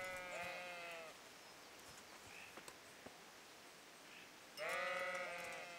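Sheep bleating in the video game Kingdom Come, two clear bleats at the start and end of the clip with quieter calls between, close and fairly faint, with no talk.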